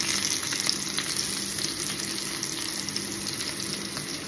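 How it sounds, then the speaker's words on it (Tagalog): Onions frying in a pan, a steady close sizzle and crackle that holds at an even level throughout. "Ilalagay na natin ang ating sibuyas"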